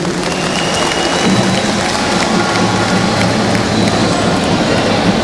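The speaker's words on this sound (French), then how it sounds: "que je vous prie d'applaudir" A large crowd applauds a head of state, the captain and president of Burkina Faso, in a steady, dense wash of clapping that holds loud and even for the whole stretch, with no voices standing out.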